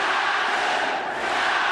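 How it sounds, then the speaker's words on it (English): A dense arena crowd roars loudly and continuously at a Pride FC mixed martial arts fight, a sustained wall of cheering and shouting with no pauses. "Crowd going ballistic."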